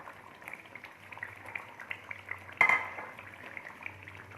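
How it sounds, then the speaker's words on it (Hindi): Fried chicken pieces drop into a sizzling karahi of Chicken Afghani, a soft steady sizzle with a sharp clatter and splash midway as the chicken goes in. "अब हम इसमें ये चिकन फ्राई किया हुआ ऐड करेंगे।"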